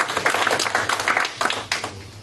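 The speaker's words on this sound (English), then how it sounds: "Give this lady a round of applause then." Audience applause for a woman, a dense burst of clapping from many hands that swells and stays steady for a couple of seconds.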